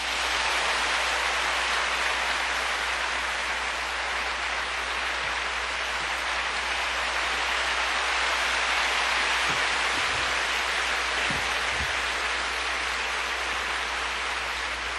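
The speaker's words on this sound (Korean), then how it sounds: "우리 뜨겁게 감사함으로 박수로 환영하겠습니다" A large church congregation at Yoido Full Gospel Church claps to welcome the pastor, a dense, steady roar of applause from many hands that fills the room without a break for about fifteen seconds.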